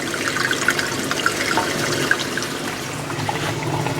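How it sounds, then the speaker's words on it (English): Water runs steadily into a homemade fish tank filter, a continuous close rushing and trickling flow with faint bubbly splashes, heard alone without speech. "you can hear that water coming in here, and pretty soon it'll come up through this filter material and go out this pipe"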